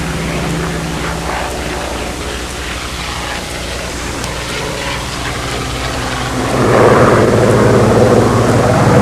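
Control-line model airplanes launching at a windy fly-in with scale, carrier, classic and Touring Hobby Shop Factory events, small propeller engines droning steadily and loud, swelling louder toward the end, no talk.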